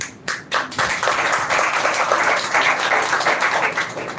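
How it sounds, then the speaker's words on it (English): A large audience applauds during a morning debate and speech event, with dense, sustained clapping that fills the whole stretch after a brief ragged start. "I want you to give a big round of applause for yourself first."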